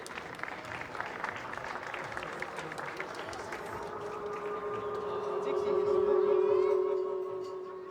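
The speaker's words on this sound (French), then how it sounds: "Un tonnerre d'applaudissements pour Sarah," A crowd at an urban downhill mountain bike event in Grenoble claps and cheers, a steady wash of applause that swells, with a rising siren-like tone emerging in the latter half.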